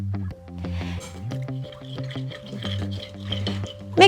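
Raw chicken breasts are stirred by hand in a bowl with soy sauce, vegetable oil and a little water, making a close, continuous run of wet squelches and sloshing squishes.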